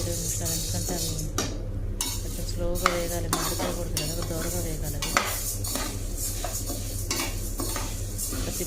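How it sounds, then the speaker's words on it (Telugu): Chana dal dry-roasting in a pan without oil, stirred continuously with a metal utensil, giving rattling scrapes and clinks over a soft sizzle, close and steady throughout. "దానిలో శనగపప్పు వేసుకున్నాను ముందు ఇవేమీ మనకి ఆయిల్ ఏమి లేకుండా ఫస్ట్ వేయించేసుకోవాలి"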